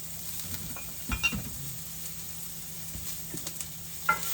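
Garlic and onion sauté in a mix of organic coconut oil and extra virgin olive oil, a faint steady sizzle with a few soft stirring scrapes and light clinks of a utensil against the pan.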